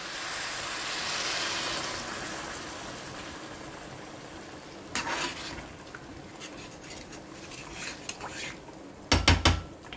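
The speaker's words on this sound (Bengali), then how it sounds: "এখানে আমি 3 কাপ জল দিয়ে দেবো" Water poured into a pot of rice fried with spices for a fish-head muri ghonto: a steady rushing hiss at the start that fades, followed later by a few sharp clanks of utensils against the pot, with no talk.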